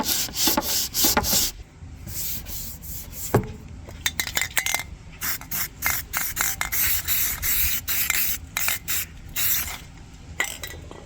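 Hand sanding of primer along a body line on a car body panel during a custom build: a steady run of scratchy rubbing strokes, close and fairly loud, with brief pauses between passes and no talking.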